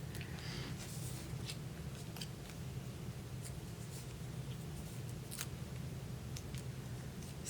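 Scissors snip through paper during card making, giving faint, scattered clicks and cuts over a steady low room hum.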